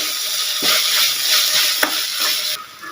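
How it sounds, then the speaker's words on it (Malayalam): Small shallots with crushed bird's eye chillies sautéing in hot oil, giving a steady bright sizzle with a few stirring scrapes, close and continuous. "ചെറിയ ഉള്ളിയും ചേർത്ത് കൊടുക്കുക ഇതൊന്ന് നന്നായിട്ട് വഴന്നു വരണം"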